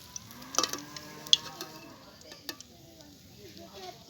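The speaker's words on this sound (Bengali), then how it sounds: "এরকমভাবে সবগুলো মাছকে আমি ভেজে নেবো" Pieces of fish fry in hot oil, giving a faint crackling sizzle with a few sharp metallic clinks of a utensil as the fried fish is lifted out of the pan.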